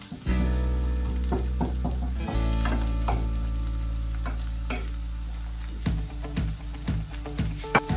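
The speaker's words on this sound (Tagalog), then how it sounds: "halu-haluin lang natin hanggang sa yung onion medyo maging maging transparent siya ng konti." Onion sautés in a pan with a steady loud sizzle while a utensil stirs it, scraping and knocking against the pan in irregular clinks throughout.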